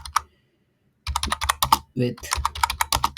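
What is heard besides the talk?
typing on a computer keyboard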